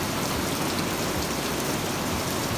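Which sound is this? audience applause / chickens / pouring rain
pouring rain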